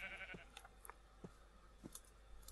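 Sheep in Minecraft bleat several times in short, faint bursts spread across the moment, with no talking over them.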